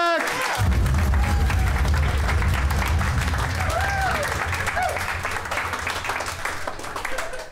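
Applause and cheering from a comedy podcast's studio audience, sustained and loud across the whole stretch, with a few whoops rising above the clapping and slowly easing toward the end.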